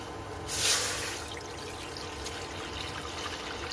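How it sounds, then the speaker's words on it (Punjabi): A short splash of water being poured, followed by a faint, steady trickle over a low background hum. "ਲਓ ਜੀ ਇਹ ਪਾਉਣ ਲਿਆ ਆਪਾਂ ਪਾਣੀ"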